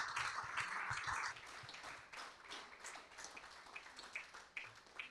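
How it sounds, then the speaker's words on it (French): A church congregation clapping for the Lord, with a burst of brisk applause that gradually thins into scattered, uneven claps, quiet and roomy. "Clap for the Lord."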